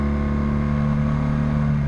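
A car engine drones steadily in a road tunnel, a continuous low, even hum with no breaks, heard from inside the vehicle.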